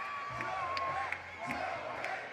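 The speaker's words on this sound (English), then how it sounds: "And they're chanting, Joel, Joel, Joel." A crowd at an outdoor FIBA 3x3 dunk contest in Lausanne chants a player's name in a steady repeating rhythm, the pulses landing roughly every third of a second. The chant sounds moderately distant, with voices and commentary mixed in.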